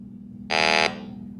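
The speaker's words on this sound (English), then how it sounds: "this is a low sensitivity and you will get like this, giving continuous beep" A refrigerant leak detector on low sensitivity gives a single short electronic beep, loud and buzzy, lasting under half a second over a low steady hum.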